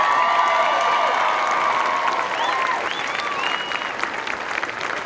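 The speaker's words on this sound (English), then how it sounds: "How about we give him a round of applause?" Sustained applause from a large crowd at an Air Force basic military training graduation ceremony fills the space, steady and loud, with a few whistles and cheers rising above the clapping.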